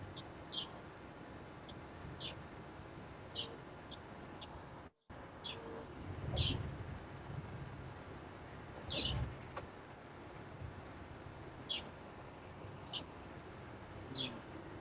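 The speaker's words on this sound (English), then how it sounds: "I can actually hear birds again" Birds sing outdoors in short, scattered chirps at moderate distance against quiet background noise, with a few brief thumps between calls.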